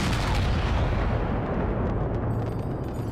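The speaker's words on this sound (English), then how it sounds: "At 10 past 4, cannon opened fire on the rebels." A cannon volley fired on rebels in Senate Square: a loud, booming blast with a heavy low rumble that decays slowly across the clip.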